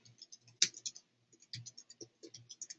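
Light keystrokes on a computer keyboard while entering button text in a website editor, a quiet irregular run of clicks with one sharper tap near the start and steadier rapid taps after, close and alone.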